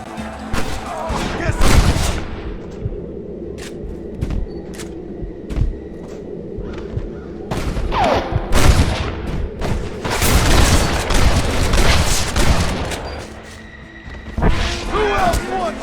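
Heavy gunfire and booming blasts in a Red Dead Redemption battle, loud volleys and thumps rolling in waves, with shouting voices over the fighting.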